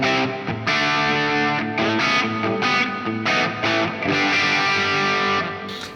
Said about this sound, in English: And we now have some grain on the reverb tail